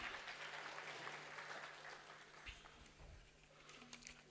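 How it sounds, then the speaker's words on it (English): An audience at a national finance conclave applauds in a dense patter of clapping that starts full and slowly thins, heard from a moderate distance with a faint hum beneath. "It calls for a round of applause from all of you."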